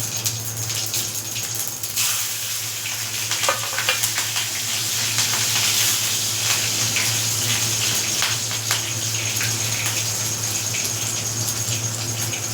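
Fennel, cumin seeds, ajwain and green chili fry in hot oil for a vegetable sabji, giving a loud, steady, close sizzle with crackling that runs the whole time with no talking.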